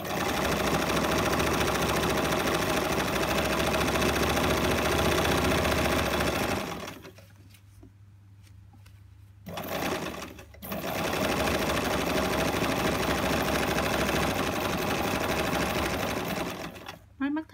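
A zigzag sewing machine stitches stretch knit fabric in a steady loud whir, pausing briefly midway before running again, with someone talking over it.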